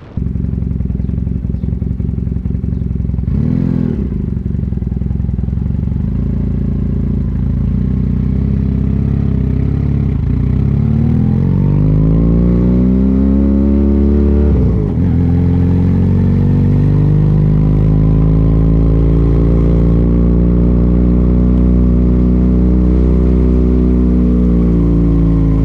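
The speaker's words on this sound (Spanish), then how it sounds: "Este sonido es con el escape nuevo que le puse a la Pilder." A Pilder motorcycle engine fitted with a new exhaust runs loud and close for the whole stretch, idling with a steady throb, then revving up and settling back down in long rising and falling sweeps.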